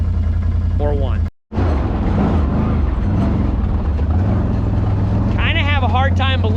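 A Can-Am off-road vehicle engine runs steadily at close range with a constant low drone and wind buffeting, while a person talks over it; the sound drops out for a moment early on.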